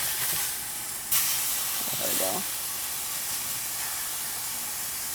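A double beef patty frying in a cast iron pan on an induction cooktop, steady broadband sizzle and hiss throughout, with a brief louder spatter burst around the middle.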